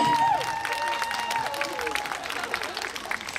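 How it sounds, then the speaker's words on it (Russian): Audience applause sending performers off stage at a concert, a busy patter of clapping under a sustained musical tone and a voice, moderately loud throughout. "Провожаем, провожаем аплодисментами!"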